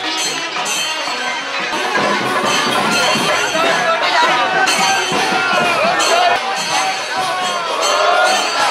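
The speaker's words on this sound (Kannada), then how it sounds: "ನೋಡಿ ಎಷ್ಟು ಕ್ರೌಡ್ ಉಂಟು." A dense crowd at the Kumble temple fair produces a constant babble of many voices, with scattered shouts and occasional clinks close by and all around.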